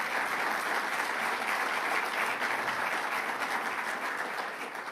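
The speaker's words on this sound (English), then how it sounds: "let's give a round of applause to Governor Phil Murphy" An audience applauds Governor Phil Murphy at a Climate Week event, giving steady, dense clapping from many hands that carries on for several seconds before easing slightly at the end.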